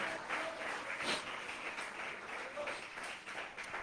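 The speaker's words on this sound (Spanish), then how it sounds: "¿Cuántos pueden aplaudir a Cristo el Señor este día?" A church congregation applauding during a sermon, sustained crowd clapping that swells and fades evenly for several seconds, moderately distant and filling the room.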